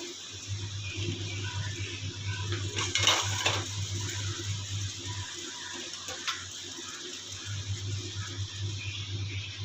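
Biryani spices are dry-roasted together with a bay leaf in a pan, giving soft rattling and a brief metallic clatter over a steady low hum, fairly quiet and close.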